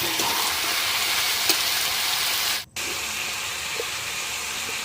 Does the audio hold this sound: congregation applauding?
no